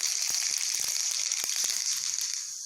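Mustard seeds and urad dal sizzle in hot oil in a small tempering pan, a steady bright hiss broken by quick pops and crackles from the seeds.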